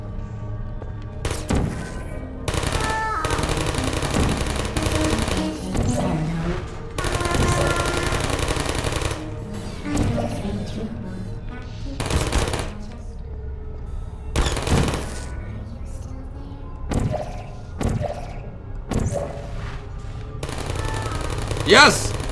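Automatic gunfire from Portal turrets in a video game, bursts of rapid shots repeating in loud clusters with short gaps between them, and a voice reacting now and then over the firing.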